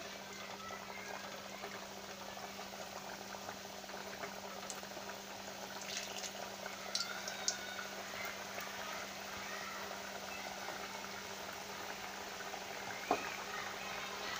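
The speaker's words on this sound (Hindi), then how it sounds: "तेल भी गरम हो चुका है, अब हम इनको एक-एक करके इसमें छोड़ देंगे।" Mathri dough pieces bubbling and frying in hot oil on a high flame, a steady dense crackling sizzle throughout with a few faint clicks, close and continuous.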